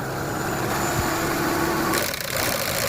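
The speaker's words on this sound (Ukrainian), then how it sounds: "А так запускається на холодний, двигун геть холодний." A Renault Scenic engine idles just after a cold start, a steady close mechanical hum with a slight shift near the end, no talking.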